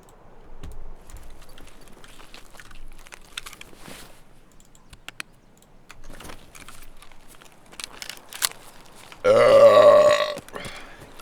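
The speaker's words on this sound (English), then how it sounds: "I said burp." A loud, close burp erupts near the end, lasting about a second, after stretches of quiet keyboard clicks and small background noises during a Tarkov game session.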